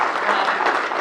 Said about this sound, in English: we can clap for that, sure.